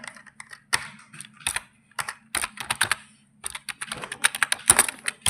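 Rapid typing on a computer keyboard while entering accounting data in Tally ERP 9: close, crisp key clicks in uneven bursts with short pauses, no talking.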